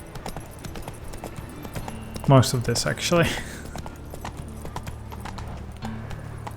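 Horse hooves clip-clopping along a path in the Witcher 3 video game, a short burst of bright, close hoofbeats with a whinny-like tone, surrounded by a quieter ambient bed and under talk.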